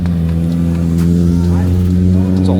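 A BMW M340 engine at a street car takeover meet runs as a loud, close, steady drone with a deep rumble that hardly varies across the short stretch, while voices talk faintly over it.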